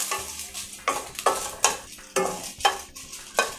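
Red chillies frying in a drop of sesame oil, stirred with a utensil that scrapes the pan in repeated close strokes over a steady sizzle.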